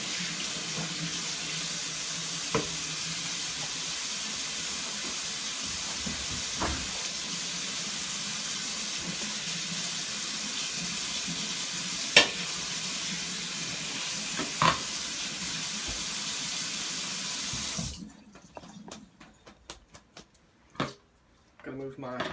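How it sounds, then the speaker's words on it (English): Hands are washed under a running kitchen tap: a steady rush of water for about eighteen seconds with a few clinks, then the flow stops and leaves quiet handling noises. "I'm going to wash my hands one last time."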